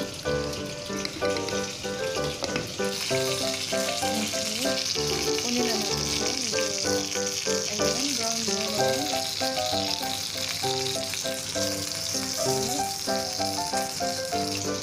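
Potato pieces sizzle and fry in a hot pan alongside curry sauce for chicken fillet, a steady close crackle under background music with no talking.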